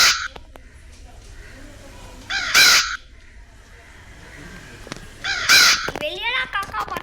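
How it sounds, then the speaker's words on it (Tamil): Crows cawing inside a house in the Granny Chapter 4 horror game, loud harsh caws in short bursts near the start and middle, with a quieter series of caws at the end, over a faint game background. "வெளியெல்லாம் காக்கா பார்த்தா இங்கே உள்ளேயும் காக்கா இருக்கு."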